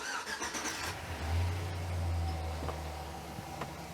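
A car engine cranks and fires up after a 4L60E transmission install, settling into a steady low idle rumble that stays close and continuous throughout.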